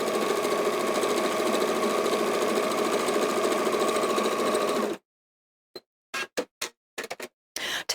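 A sewing machine stitches a cushion cover in one steady, close, loud whirring run lasting about five seconds, then stops abruptly, leaving silence broken by a few short, sharp clicks.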